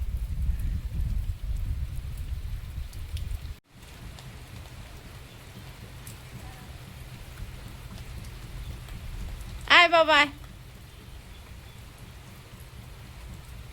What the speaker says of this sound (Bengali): কি বৃষ্টি হওয়া আজকের হচ্ছে। আর তুমি চলে গেছো, তারপর যেন মুষলধারে হচ্ছে।